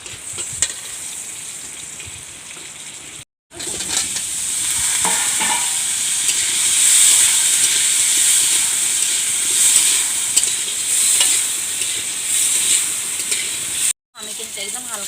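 Potatoes fry in a small amount of oil with salt and turmeric, a loud, close, steady sizzle with stirring scrapes, broken by two short silent gaps.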